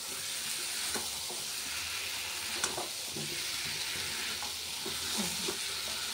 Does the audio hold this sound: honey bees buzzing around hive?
no